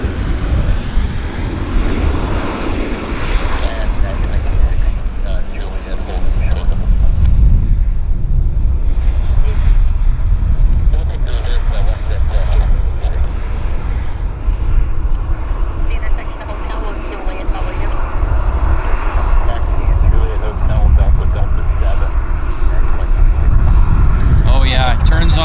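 An airliner landing at Vancouver Airport roars with reverse thrust, a long, loud, rushing engine blast that swells and holds, with someone talking over it.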